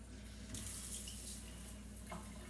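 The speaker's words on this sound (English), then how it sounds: "I will use my sprayer." A kitchen sink sprayer shoots a steady stream of water into a sink during a sink scouring lesson, giving a continuous hiss and splash that swells slightly after a quiet start.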